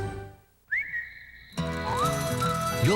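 A person whistles a clear, rising then sustained tune in a Chili's TV commercial, starting after a brief quiet gap, then music or ad sound comes in and continues under a closing whistled swoop.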